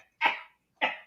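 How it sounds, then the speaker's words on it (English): Two sharp coughs from a person, close and fairly loud, spaced about half a second apart with silence between them. "He coughed up a lung."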